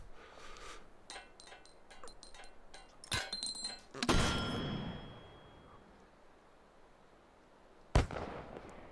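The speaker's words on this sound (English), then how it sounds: "But I want to use it like a traditional mortar." Mortar in the VR game Hot Dogs Horseshoes & Hand Grenades: metallic clicks and clanks of handling, then a loud launch thump with a ringing tone and a long rumbling tail, followed later by another sharp blast.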